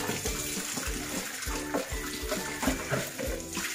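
Tap water runs steadily while hands are scrubbed with soap at a home sink, the flow loud and close with splashy, rhythmic pulses as the hands move under the stream.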